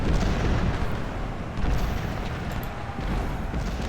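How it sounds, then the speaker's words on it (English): Cannon fire in Ultimate General: Civil War during a counterattack at Shiloh, a dense, continuous rumble of artillery booms and crackling gunfire, loud and unbroken with no clear pauses. "Oh, those cannons are doing a lot of damage."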